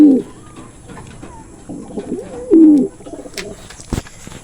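A pigeon hen coos several times in short, close, fairly loud bursts, with brief quiet gaps and a sharp knock near the end.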